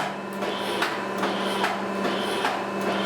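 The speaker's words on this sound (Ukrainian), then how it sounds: "А тепер ми включаємо вертикальну подачу і ставимо тут, ну, давайте три сотки. Ну от працює." A 3E711V surface grinding machine runs on automatic vertical feed, giving a steady mechanical hum with regular, evenly spaced whooshing strokes repeating about every half second.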